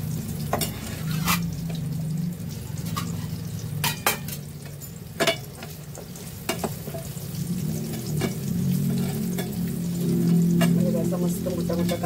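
Large-cut onion pieces fry in soybean oil that was already used for frying, giving a steady close sizzle with scattered sharp crackles and pops from stirring, and no voices.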